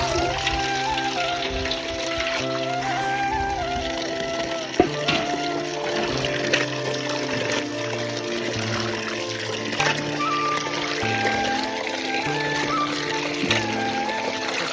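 Cut mangoes being washed in water, with trickling, splashing and pouring sounds alongside light clinks, steady and fairly close throughout.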